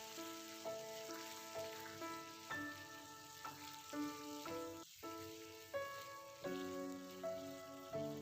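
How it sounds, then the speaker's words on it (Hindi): Tomatoes frying with salt in a pan for paneer do pyaza, a soft, steady sizzle running continuously beneath louder background music. "अभी इनको अच्छे से भून लेंगे जब तक टमाटर सॉफ्ट नहीं होते"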